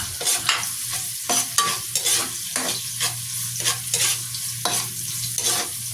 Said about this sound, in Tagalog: Unahin lang muna natin igisa yung sibuyas hanggang sa maging translucent.